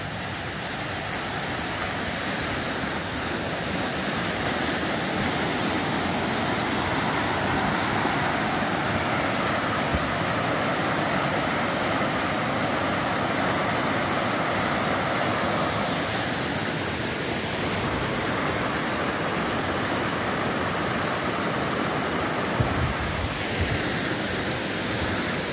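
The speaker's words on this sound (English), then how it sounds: "There's a bridge over this creek." Creek rushing beneath a trail bridge along the Pacific Crest Trail, a loud, steady broadband roar of flowing water that continues unbroken throughout, heard up close with no voices.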